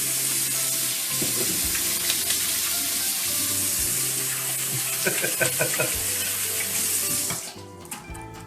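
A kitchen tap runs steadily as hands are washed before cooking paella, a continuous close hiss of water with faint splashes, then the flow cuts off near the end.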